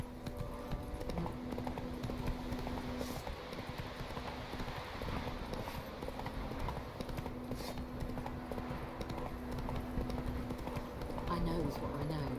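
Galloping horse hooves from The Witcher 3, a steady drumming clip-clop running throughout under continuous ambient game sound, with a voice speaking over it.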